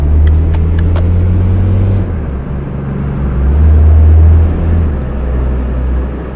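Mercedes-Benz Sprinter van in the City Car Driving game, its engine a steady low rumble that eases and swells again through a slow right turn at a yield sign, with a few faint ticks above.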